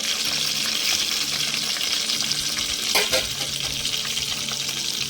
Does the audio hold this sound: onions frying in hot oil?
yes